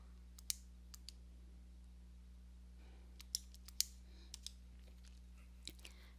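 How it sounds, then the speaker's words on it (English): Calculator buttons pressed to enter a number and take a square root, a handful of faint, sharp clicks spaced irregularly over a low steady hum. "So I hit the square root function and type in the number again."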